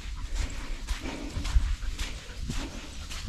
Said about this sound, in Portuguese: Tem um cavalo solto aqui na rua.